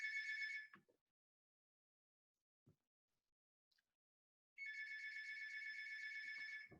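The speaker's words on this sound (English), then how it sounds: "hopefully someone will get that phone" A telephone rings in a classroom, a steady electronic trill at the start and again for a longer stretch near the end, with near silence and a few faint knocks between the two bursts.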